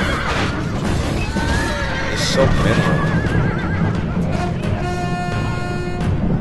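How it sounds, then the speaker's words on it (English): Horses whinny repeatedly in a Persians versus Macedonians video game battle, rising neighs over a constant din of fighting while someone talks throughout. "Again, Macedonian horses swarming the shit out of the soldiers."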